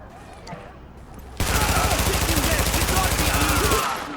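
Automatic rifle fire in The Division, set in Brooklyn, erupts suddenly after a quiet moment as one loud, sustained burst of rapid, evenly spaced shots lasting over two seconds, then cuts off.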